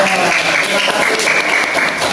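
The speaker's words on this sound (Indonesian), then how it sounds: "Ya, tepuk tangan semuanya." Classroom of schoolchildren applauding student groups, a loud, dense, continuous clatter of many small hands throughout.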